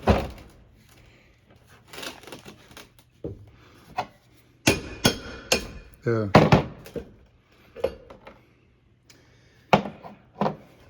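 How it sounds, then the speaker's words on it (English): Hammer blows on the front drive shaft U-joint of a 1999 Chevrolet Silverado, a series of sharp metallic strikes spaced irregularly across the clip, with a person speaking briefly between them. "Just kind of got to work it with the hammer."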